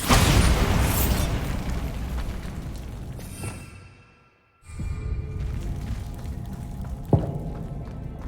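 Bombarda spell explosion in Hogwarts Legacy: a loud blast at the start that rumbles and fades to near silence, then ambient game noise returns with a sharp crack partway through.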